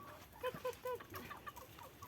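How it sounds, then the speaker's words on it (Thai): Native-breed chickens cluck softly in a few short bursts, faint and somewhat distant against quiet background noise. "เป็นไก่พันธุ์พื้นบ้านนะครับ"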